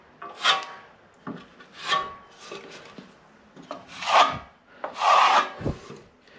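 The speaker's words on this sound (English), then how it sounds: "So if you just scrape a bit off the bottom of the wall," A plastering trowel scrapes across wall plaster while filling a small hole, making five or six distinct rasping strokes in an uneven rhythm, close and fairly quiet, with short pauses between passes.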